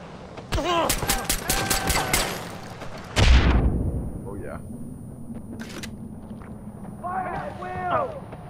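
Rapid bursts of gunfire from the Far Cry 4 video game, a dense run of quick shots in the first seconds followed by a heavy boom, then quieter scattered action with voices talking over parts of it.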